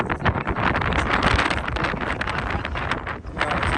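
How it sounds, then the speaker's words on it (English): Strong wind roars steadily across the microphone outdoors by the ocean on the Lost Coast Trail, a constant gusty rush with no voices. "It's windy."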